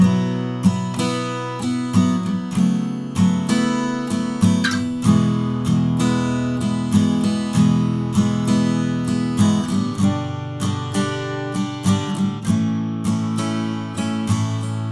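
Acoustic guitar chords from the chorus of a song ring out in a steady, rhythmic strumming pattern, played close and clearly with no voice.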